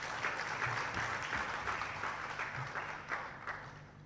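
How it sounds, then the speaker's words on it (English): Steady applause from an audience at a digital humanities summer school lecture, fairly quiet and distant, with dense clapping that holds evenly throughout. "A round of applause again."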